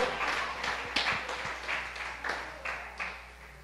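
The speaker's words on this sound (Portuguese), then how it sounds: "Você pode aplaudir ao Senhor com o seu melhor." Church congregation applauding during a service, a steady wash of many hands clapping at moderate distance with scattered sharper claps, continuous for several seconds.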